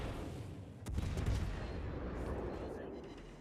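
Naval guns on a warship firing high-explosive shells in a naval battle game, a heavy boom followed by a rumbling roar of sustained gunfire and low battle noise, with a voice talking over it.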